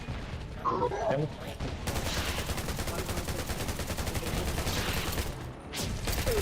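Rapid automatic gunfire in the video game Undawn as a player shoots at a downed body, a dense sustained burst of fast repeated shots running nearly the whole time, loud and close, with a short gap late on.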